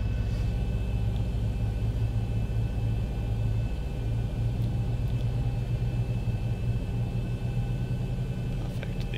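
Boeing 737 jet engines spooling up in the X-Plane 11 flight simulator, a steady droning hum with layered tonal whine that holds constant and alone throughout.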